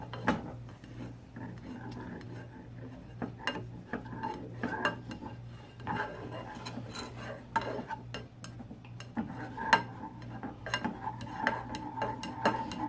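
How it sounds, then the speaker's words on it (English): Spoon stirring a thickening mixture in a metal pot, with quiet irregular clinks and scrapes against the pan over a faint steady hum. "So there we are stirring it and waiting for it to get thick."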